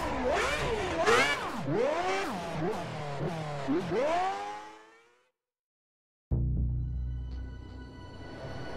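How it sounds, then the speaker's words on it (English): An F1 car engine in a racing video game rises and falls through several revving sweeps, loud and close, fades out, then after a brief gap starts up again with a steady idling hum. "Let's fire up the engine."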